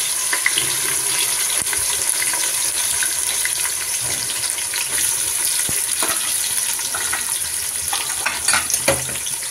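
Half a kilo of onions frying in hot oil for a mild masoor dal pulao, a continuous dense sizzle with scattered crackles and stirring clatter, close and steady, without talking.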